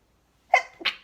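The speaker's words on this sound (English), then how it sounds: "I have to sneeze." A single close, sharp sneeze with a quick intake of breath before the burst, in an otherwise quiet room.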